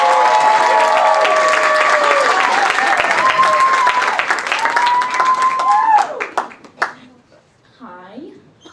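An audience at a stand-up comedy show applauds and cheers as a comedian is welcomed to the stage, a dense wash of clapping with whoops on top that fades out over several seconds, after which a voice briefly speaks.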